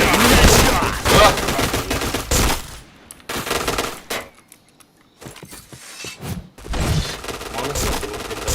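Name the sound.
gunfire in the PointBlank video game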